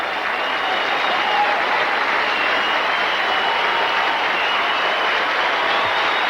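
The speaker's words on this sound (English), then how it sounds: "The crowd is applauding the young quarterback from Yale who is taking the cart into the dressing room." Steady applause from a crowd at a 1984 NFL football game in Buffalo's stadium, a dense continuous wash of clapping that stays even throughout, heard alone from a distance.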